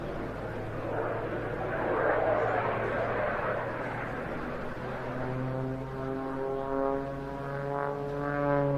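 Aerobatic aircraft with enlarged ailerons and elevators performing a loop and triple snap roll at the Jersey International Air Display, its engine droning steadily at a distance with a rising, wavering pitch, under outdoor crowd noise.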